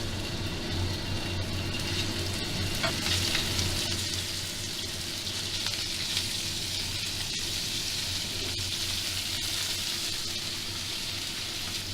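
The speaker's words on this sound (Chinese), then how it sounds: "先甲鸡肉先煎过" Chicken pieces fry in oil in a hot wok for three-cup chicken, giving a steady, fairly quiet sizzle and crackle that runs throughout with no talking.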